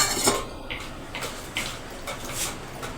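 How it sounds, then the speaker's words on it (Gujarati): Peeled almonds are tipped into a mixer jar for a badam milkshake, giving a few light clinks and rattles up close, then fading to quiet room tone. "તો હવે આપણે તેને મિક્સર જારમાં લઈ લઈશું"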